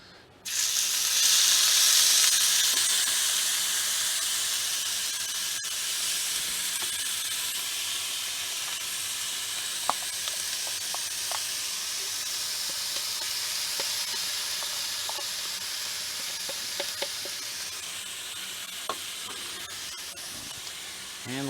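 Onions hit a hot pan with a loud burst of hissing sizzle that settles into steady frying, punctuated by a few faint clicks and taps, with no voices.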